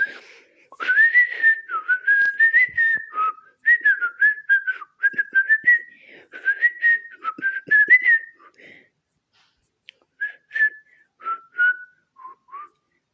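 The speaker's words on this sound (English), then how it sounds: "What am I whistling?" A person whistles a medley of several songs, melodic phrases in a clear close whistle with short pauses between runs, alone with no other sound.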